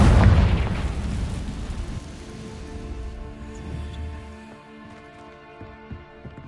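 A Confringo fire-blast spell bursts loudly at once in a Hogwarts wizarding game, then a long crackling, rumbling decay fades under a faint, ringing tonal bed.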